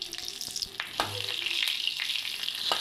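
Bay leaf with dried and green chilies frying in hot oil makes a steady, bright crackling sizzle that builds over a few seconds, punctuated by light utensil taps, close up with no voices.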